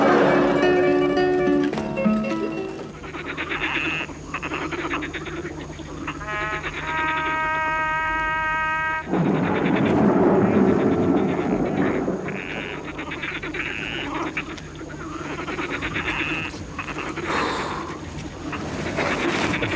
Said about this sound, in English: The frogs are restless tonight,